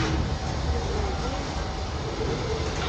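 The Walt Disney World Railroad train rolls into the station, a low steady rumble and clatter of the cars with a faint squeal, under background voices.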